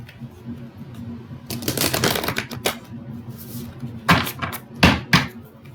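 Oracle cards are shuffled by hand during a live angel-message reading, giving bursts of crisp riffling and slapping clatter, loudest in a long run midway and a few sharp flicks near the end.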